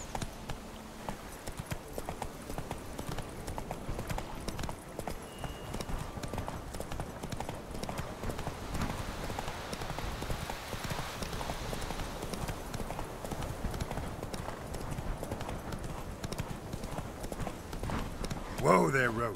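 Horse hooves clip-clopping at a steady walking pace, Geralt's horse Roach in the Witcher 3 video game, moderately faint and continuous beneath game music and ambience.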